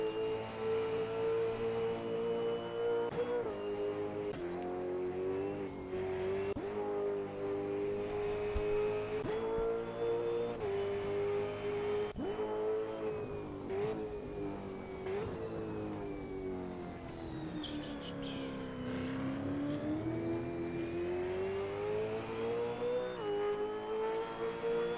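A V8 Supercar race car in an online ANZCRL racing round at Curitiba on a flying lap: one engine drones steadily for the whole stretch, rising and falling through gear changes with brief lifts and a long dip under braking, heard without talk.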